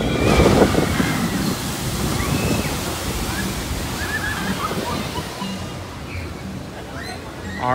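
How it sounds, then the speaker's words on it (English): A loud, close rush of splashing water roars continuously as a theme park ride boat splashes down on Jurassic Park River Adventure, slowly easing off, with faint voices in the background. "that was the boat splashing down in Jurassic Park River Adventure"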